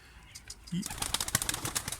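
Tumbler pigeons take off from a loft in a burst of flapping wings, a fluttering rush that starts after a quiet moment and continues busily, with a voice briefly audible nearby.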